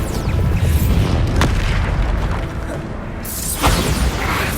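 Repeated booming magic blasts from the Bombarda spell in the Hogwarts Legacy video game, dense rumbling explosions layered with whooshes and crackles, loud and continuous with a couple of sharper bursts.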